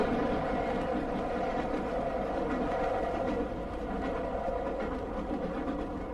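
A train rumbles past a level crossing at close range, a steady, heavy rolling clatter that continues throughout without pause.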